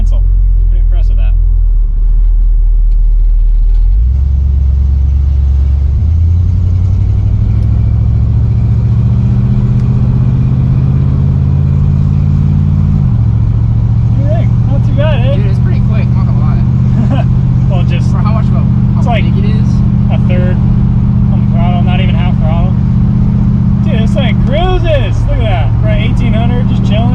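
A Ford Galaxie cruises along the road with a loud, steady engine drone that shifts pitch as it changes speed. Someone talks over the sound for much of the time.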